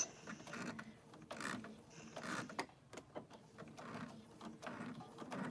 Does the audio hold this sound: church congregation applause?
no